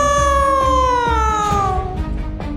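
A long, drawn-out cat meow slides slowly downward in pitch, loud and close, followed by a few soft thumps.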